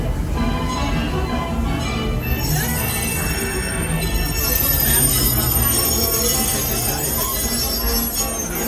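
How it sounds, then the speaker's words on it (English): Disneyland Railroad train rolling along its Grand Circle Tour route, a steady rumble of wheels on rails with occasional squeals, continuous throughout with crowd and announcement voices mixed in. "Alrighty folks, this train is now ready to depart."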